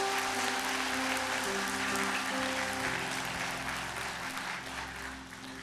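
Warm, sustained applause from a Korean church congregation during Sunday worship in Irvine, welcoming a visiting pastor to the pulpit; steady clapping fills the space evenly and slowly tapers toward the end.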